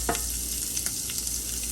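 Shrimp sizzling steadily as they brown in a frying pan, a dense, continuous fry close up with a few soft pops and stirring scrapes, no voices.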